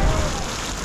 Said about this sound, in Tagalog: Pero bumuhos yung malakas na ulan.